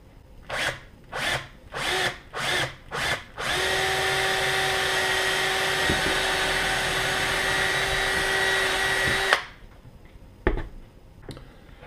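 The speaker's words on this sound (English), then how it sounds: "you drill the holes in the boot" A power drill bores holes in a boot sole for fitting crampons: several short bursts of drilling, then one long steady whining run lasting about six seconds, followed by a couple of faint knocks.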